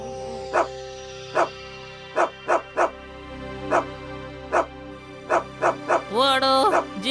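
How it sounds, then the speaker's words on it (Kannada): A house dog barks in a cartoon setting, sharp woofs repeating at irregular intervals over a steady tonal music bed. A whining yelp rises near the end. "ಈ ಮನೆಯಲ್ಲಿರೋ ನಾಯಿ."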